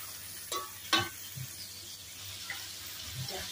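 Lokan clams cooking in a spicy soy sauce, a soft bubbling simmer with occasional stirring scrapes and light liquid splashes, close by and moderately quiet.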